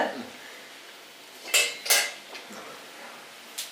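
A spoon scrapes and clinks against a pan while potatoes and puffed rice are stirred, several sharp metallic knocks in quick succession between quieter scraping.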